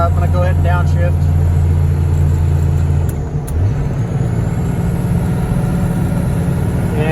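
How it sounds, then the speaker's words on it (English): A pickup truck with a Cummins-swapped engine hauls heavy hay equipment uphill, its deep engine drone steady and loud, then dipping and shifting pitch as it downshifts midway. "I'm going to make it over this little hill here, or plateaus, and then I'm going to go ahead and downshift."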